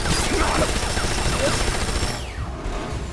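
Dense, continuous cannon gunfire as a game or drama sound effect, loud and rapid at first, then thinning and fading near the end.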